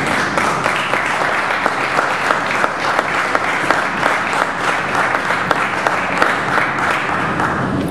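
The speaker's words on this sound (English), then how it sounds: "give yourself a round of applause" An audience at a community candidate forum for city council, hosted by a coalition of block associations, gives sustained loud applause, a dense even wash of clapping lasting the full stretch.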